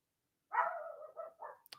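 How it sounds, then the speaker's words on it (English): Small dog barking indoors, one drawn-out bark followed by two shorter ones, fairly near, then a faint click. "my tiny dog is also full of rage."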